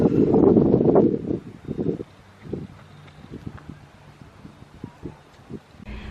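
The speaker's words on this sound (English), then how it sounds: "A big gust of wind came" Outdoor wind gust during plein air painting by a garage as a dark cloud approaches, a loud rushing buffet at the start that dies down, followed by faint scattered knocks and rustles.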